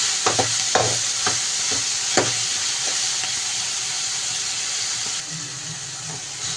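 Tomatoes and onions sauté in a pan, a steady close sizzle and hiss with several scraping stirs of a utensil near the start and a few more later on.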